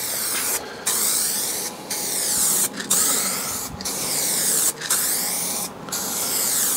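A spray gun lays a thick paint coat on a crash-damaged Fiat 500. Loud, close hissing bursts come in regular passes of about a second each, separated by brief pauses.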